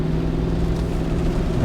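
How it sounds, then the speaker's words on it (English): Hybrid GMC Yukon with about 200,000 miles accelerating down a road, a steady low engine drone heard from inside the cabin, constant and fairly loud, with no speech. "I'm going down the road. Give her some gas."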